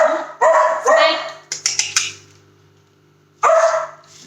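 A female dog indoors lets out a quick burst of four or five sharp barks, set between stretches of someone talking nearby.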